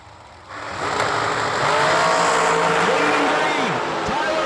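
A drag race at a New Year Nationals event, with a 2015 American Chassis dragster on the left lane, swells into a loud, sustained engine roar after a quieter start, while an announcer talks over it.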